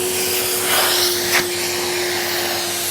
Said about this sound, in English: You've got a very, very good vacuum on this machine.